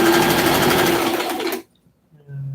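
Sewing machine running steadily while winding a bobbin, a loud whirring hum that stops abruptly, followed by a short quieter mechanical tone.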